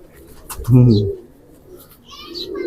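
A khatang pigeon coos once in a low, throaty burst, fairly close, with faint background noise and a soft high chirp around it.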